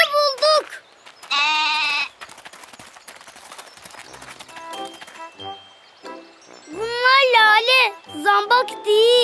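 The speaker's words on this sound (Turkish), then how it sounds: "Keçi dur, çiçekleri yeme." A cartoon goat bleats several times in loud, wavering calls, with a couple of bursts early on and a longer cluster later, separated by quieter clatter.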